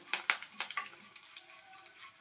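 Urad dal, chana dal, curry leaves and dried red chilies crackle and pop in hot oil for a tomato chutney tempering, with a few sharp spits at the start easing into a soft, steady sizzle close by.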